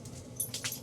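A dog whimpers softly in a chilly outdoor winter camp setting at 18°F, with a few faint high whines in a brief quiet moment.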